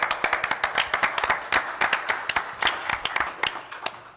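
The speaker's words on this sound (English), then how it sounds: "give yourself a big round of applause" Applause for volunteers at a June homeowners' board meeting, with fairly sparse, uneven individual claps from a modest audience that carry on steadily through the clip at moderate loudness.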